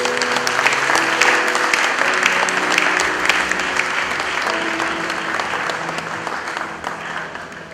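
A church congregation claps and cheers for the Lord in a dense, sustained round of applause that fills the room and slowly tapers toward the end.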